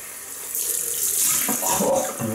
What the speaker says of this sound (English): Rinse time, cold water.